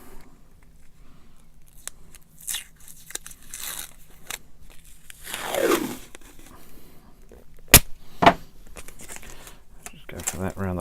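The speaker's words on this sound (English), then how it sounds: "let's get some tape on there" Tape peeling and tearing off a roll sounds up close in irregular bursts of crinkling and ripping, with a couple of sharp snaps near the end, among intermittent quiet handling noise.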